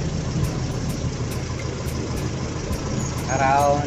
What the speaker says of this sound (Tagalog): naka-idle po yung aking makina, yung aking 4K engine.